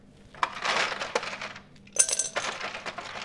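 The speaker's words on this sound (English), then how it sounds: "I'm just gonna put some ice cubes in it" Ice cubes dropped into a big measuring cup while preparing ice water for a roasted red bell pepper: two bursts of clinking, rattling impacts about a second and a half apart, close and fairly loud, with no talking.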